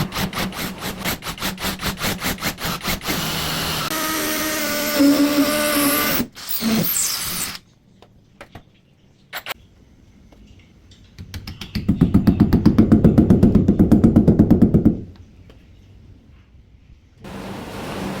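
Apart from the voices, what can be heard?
power drill drilling into a wall to mount a TV bracket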